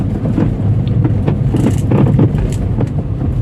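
A Skoda Rapid with a worn steering rack and loose rack bushes gives a low, rumbling knock and clunk, heard close amid engine and road rumble with some wind buffeting.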